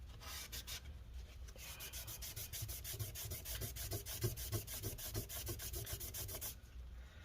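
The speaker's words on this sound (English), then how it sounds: "see if we can wipe off this adhesive residue, though some of it might just be scraped up metal" Adhesive residue being scraped and rubbed off the metal casing of a Lenovo Yoga laptop, heard as a fast, even run of close rasping strokes at a steady rhythm, quiet and alone.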